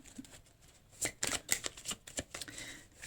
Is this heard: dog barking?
no